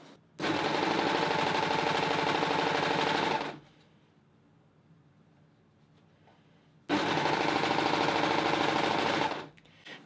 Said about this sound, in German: Anschließend beginnst du ganz normal deine Naht zu nähen und hältst hier die Fadenraupe fest, die gleich von dem Messer abgeschnitten wird.